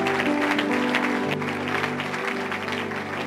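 A church congregation at a night vigil applauds steadily in praise, a dense continuous wash of clapping from many hands, with sustained tones and voices mixed in underneath.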